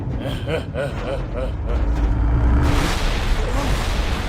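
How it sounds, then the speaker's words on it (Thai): Explosions in Minecraft rumble as a continuous low, booming roar that swells partway through, with a voice speaking over it in the foreground. "มันมีเสียงระเบิดเต็มหมดเลย"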